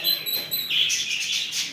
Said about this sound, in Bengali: এই যে লাভবার্ড দেখতে পাচ্ছি তোমরা।